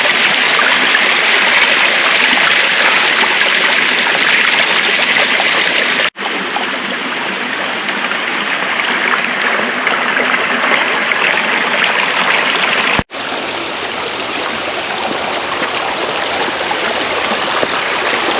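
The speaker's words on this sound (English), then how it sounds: "it's nice and refreshing to have fresh flowing water around you" A fresh mountain stream flows in a steady, full rush near the microphone on Bull Hill in the Hudson Valley, unbroken apart from two brief cuts.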